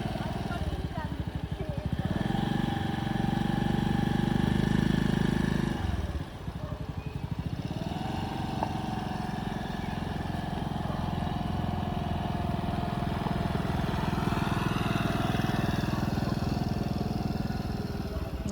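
A scooter engine runs steadily nearby while a girl learns to ride, with a brief dip partway through before the low hum resumes, and people talk over it.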